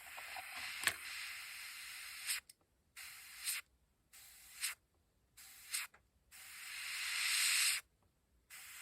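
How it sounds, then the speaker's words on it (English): An airbrush spraying paint onto a 1/72 scale Bandai X-Wing model kit, a series of short hissing bursts of air and paint with brief silences between, ending in one longer spray, close and moderately loud. "So we'll get the airbrush going"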